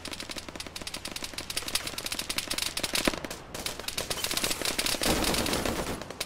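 Rapid automatic gunfire in the Arma 3 military shooter, dense overlapping bursts and single shots crackling almost continuously, loud and close, with no talk over it.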